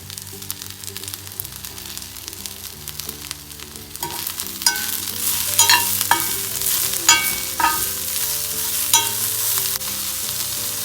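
Green chillies fry in a pan for a hot chilli chutney, a constant sizzle punctuated by a series of scraping strokes as a spatula stirs them, close and loud.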